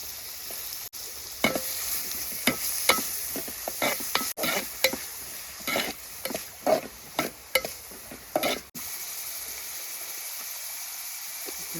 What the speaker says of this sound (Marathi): मिरची टोमॅटो लसूण तिन्ही पण आपण मिक्स केलं